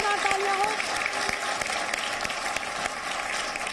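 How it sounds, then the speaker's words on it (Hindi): Loud, sustained audience applause at a Hindi poetry event, many hands clapping at once, filling the space with a steady roar of claps. "एक बार जोरदार तालियां हो।"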